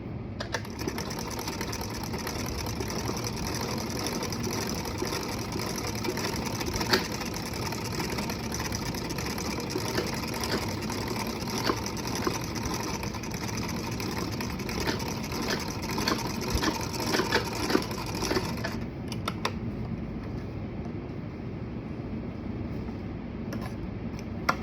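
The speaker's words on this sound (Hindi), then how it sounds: "इसे हमें ऐसे सिलाई करते हुए स्टिच" Sewing machine stitching a thin fabric piping strip for a small summer dress, a fast continuous mechanical whir close by for about nineteen seconds before it slows and stops, with no talk.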